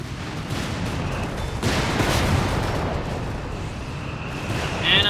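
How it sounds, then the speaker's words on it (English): An artillery barrage in the strategy game Company of Heroes 3, heard as a continuous rumble of distant blasts and booming impacts with a swell partway through, under no speech. "And another Westbank barrage looking to further erode the German forces here west of Pachino."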